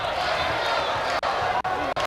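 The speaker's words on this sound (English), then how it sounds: "The crowd imploring the home team." A volleyball crowd cheers and roars on the home team during a Rainbow Wahine match against St John's, a dense sustained wall of noise briefly cut by short gaps, with a commentator talking over it.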